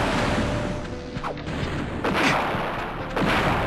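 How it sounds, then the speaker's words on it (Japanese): An explosion in the Naruto Ultimate Ninja Impact video game: dense, noisy blasts with several sharp booming bursts over a rumbling background, loud and close, no speech. "結局また爆発かよ"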